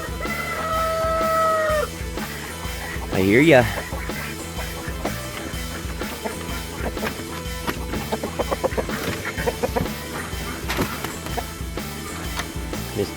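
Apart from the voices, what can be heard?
rooster clucking and crowing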